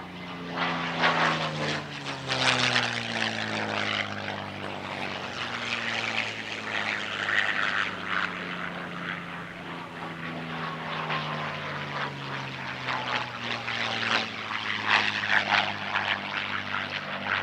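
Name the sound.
pair of P-51 Mustang propeller aircraft flying at airshow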